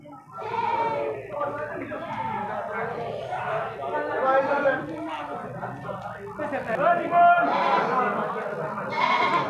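Goats of various breeds at a weekly goat market in Borohar bleat repeatedly, loud and close, mixed with people talking nearby.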